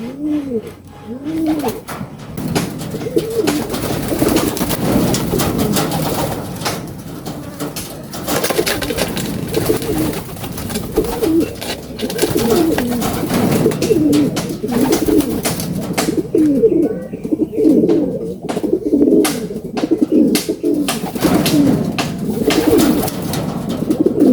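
Racing pigeons coo repeatedly and close by during a derby race, overlapping throaty, rolling calls in uneven bursts that continue almost without a break, along with light shuffling.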